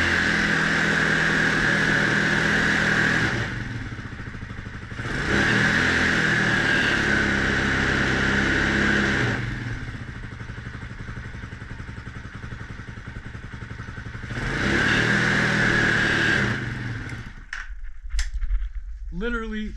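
A TBR7 dirt bike engine, fired up during charging-system checks, roars close and loud in repeated revving bursts separated by quieter idling stretches, before cutting off near the end.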